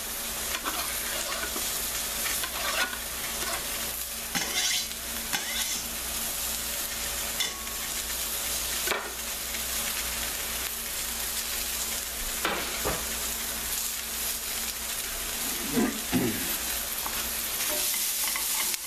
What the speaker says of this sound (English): And just stir this up.